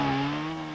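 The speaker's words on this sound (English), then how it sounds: "The buzz of chainsaws replaces the rush of hail and wind" A chainsaw buzzes steadily during cleanup after a July 1999 microburst storm in Weymouth, Massachusetts, giving a continuous, fairly loud engine drone.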